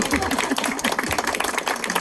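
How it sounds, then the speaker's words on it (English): An audience at a book lovers' evening event applauds a guest, a dense round of clapping with sharp individual claps standing out, sustained and fairly loud throughout. "I think we should give Kelly a round of applause"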